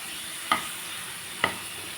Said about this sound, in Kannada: ಟೊಮೆಟೊ ಈರುಳ್ಳಿ ಬೊಕ್ಕ ಶುಂಠಿ ಬೆಳ್ಳುಳ್ಳಿ ಪೂರ